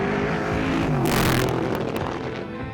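Classic race cars such as a Ford GT40, Shelby Cobra and Jaguar E-Type on the final day of the Tour Auto rally, engines roaring steadily as a loud car sweeps past close by.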